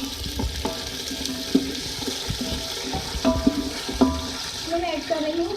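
Strained dumba (fat-tailed sheep) yakhni stock pours into a pot of golden-fried ingredients, a steady liquid splash and gurgle with scattered clinks and knocks throughout.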